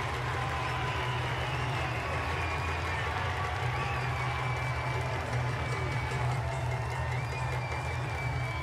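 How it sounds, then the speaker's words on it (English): A stadium crowd at the 2023 NCAA Division I men's lacrosse championship first round between Princeton and Penn State roars after a goal, a dense, unbroken wall of cheering and clapping that holds at an even level throughout. "He'll shoot, scores! Listen to this crowd!"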